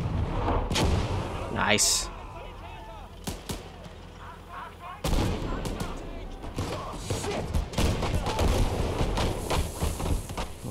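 Gunfire and artillery blasts in a WWII video game battle, with sharp loud shots and heavy booms scattered irregularly throughout, under a voice speaking briefly.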